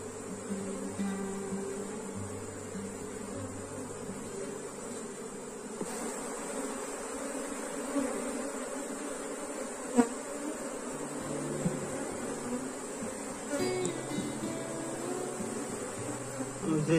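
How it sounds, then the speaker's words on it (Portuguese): Dense buzzing of many honeybees hovers close around an open hive, steady and continuous, with occasional soft knocks and rustles. "Até que tem um volume bom de abelhas"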